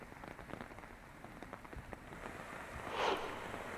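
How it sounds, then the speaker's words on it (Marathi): Heavy monsoon rain pours steadily onto surfaces in Gondiya district, Maharashtra, a dense continuous patter with scattered individual drops and a slight swell toward the end, with no voices. "गोंदिया जिल्ह्यात मागील 2 दिवसापासून मुसळधार पाऊस सुरू आहे"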